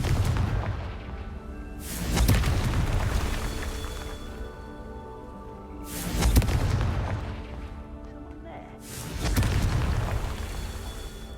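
Three heavy blasting booms from the Confringo spell in Hogwarts Legacy, each a loud burst with a long rumbling tail, spaced about four seconds apart against a steady background din.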